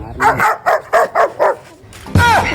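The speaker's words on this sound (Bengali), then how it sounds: "কুত্তা খেউ খেউ করে কোন দিক থেকে?" A dog barks about six times in a quick, fairly loud series, followed by a louder yelp or whimper at the end.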